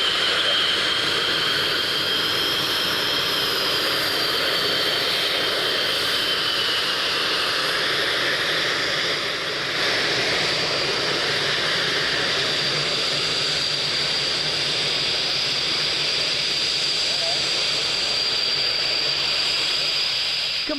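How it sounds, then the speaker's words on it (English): Jet aircraft flying at the 1994 Mildenhall Air Fete, a continuous roaring engine with a rising and falling whine and broad hiss, steady and moderately distant for the whole stretch. "Enjoy the aircraft."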